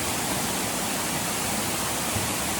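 A waterfall in the Mindo cloud forest of Ecuador, heard as a steady, even rush of falling water, moderately loud and unbroken, with no voices.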